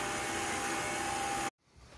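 A stand mixer runs on high whipping macaron meringue, a loud, steady whirring roar that cuts off abruptly after about a second and a half, leaving faint room noise.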